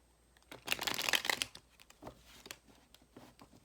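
Tarot cards are shuffled and laid out on a table in a short flurry of soft papery riffling and slaps, close and fairly quiet, followed by a few scattered flicks.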